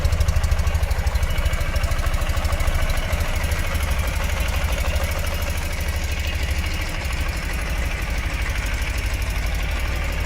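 A 2013 Ural Gear Up motorcycle with a carbureted engine idles steadily and up close, its even cylinder beats thumping in a clear rhythm with no talk over it.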